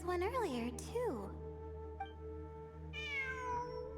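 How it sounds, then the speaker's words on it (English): A cat meows in the Genshin Impact video game, two rising and falling calls near the start over a steady background hum, with a brief higher tone later and a constant low drone throughout. "It really is a cat."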